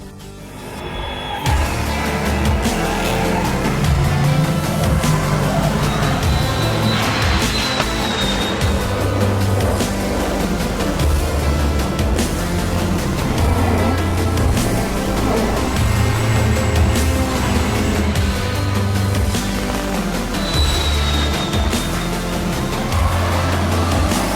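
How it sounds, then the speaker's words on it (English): A Fox Body Mustang drift car runs on a track, its engine droning steadily and loudly for over twenty seconds with rising and falling revs, heard from nearby without any talk. "Let's get this thing out on the track."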